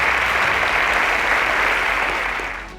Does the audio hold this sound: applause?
yes